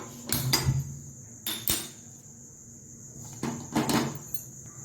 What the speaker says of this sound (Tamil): ஃபர்ஸ்ட் ஸ்டவ் ஆன் பண்ணி பாத்திரம் வச்சுக்கலாம்